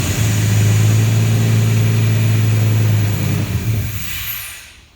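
A Dodge V10 engine running with a loud, steady low rumble close by, then winding down and fading toward silence at the end.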